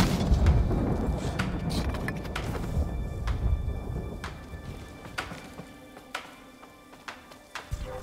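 Gunfire and booming blasts in the Ghost of Tsushima Director's Cut on Iki Island, loud and dense at first, then thinning into scattered sharp cracks over a quieter background.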